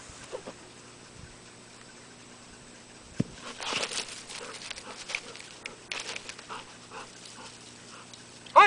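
A hunting dog in training works outdoors, giving soft whimpers and snuffling with light patter of movement through cover, fairly close and moderately loud, with no talking.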